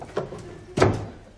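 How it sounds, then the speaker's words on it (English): An office door in a sitcom scene is pushed shut: a faint shuffle followed by a solid, close thud of the door closing, with no talk. "Close the door."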